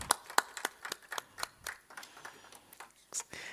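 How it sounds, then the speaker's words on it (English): Scattered audience applause at a film festival panel in Imphal, with individual sharp claps spread out across the hall, fairly quiet and uneven. "Ladies and gentlemen, please give them a big round of applause."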